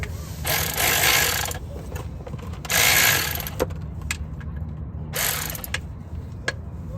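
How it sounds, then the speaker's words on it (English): H8 hex socket on a ratchet working loose the oil drain plug of a 2007-2013 Mini Cooper S JCW, with bursts of rasping ratchet clicks and metallic scraping separated by quieter pauses and sharp taps, close by. "it's an H8 hex socket / Allen to get the oil drain plug out"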